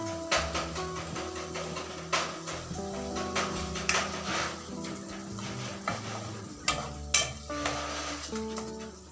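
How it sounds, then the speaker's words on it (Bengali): Spinach cooks in a pan as chopped tomato, salt and sugar are stirred in, with a steady sizzle under repeated close scraping and clinking of a utensil against the pan. "এবার টমেটো কুচি দিয়ে পরিমাণ মতো নুন ও সামান্য চিনি দিয়ে আবারও শাকের সাথে ভালো করে মিশিয়ে নেব।"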